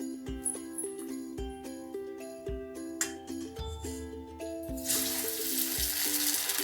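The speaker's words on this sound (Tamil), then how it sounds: "இப்போ நான் ஆயிலில் போட்டிருக்கேங்க நல்லா வந்து கிறிஸ்பி ஆன ஆயிடுச்சு பாருங்கள்" Medu vada made from urad dal batter goes into hot oil, and a rising hiss of frying takes over near the end after a stretch of clinking and tonal background sound.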